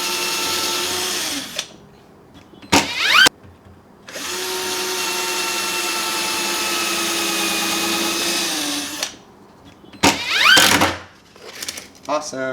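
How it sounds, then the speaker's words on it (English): A power drill drives screws into a panel, with long whirring runs of the motor, two short bursts, and then a longer steady drilling stretch. The whine starts and stops abruptly and sounds close and loud. "I can then drill 2 screws and go for it."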